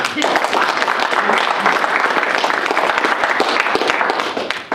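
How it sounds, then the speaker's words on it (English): Audience applause at a press conference for the 30th anniversary of a tournament, dense and sustained clapping from a crowd for nearly five seconds, fairly loud and even before tapering at the end. "Let's give a big round of applause to our sponsors."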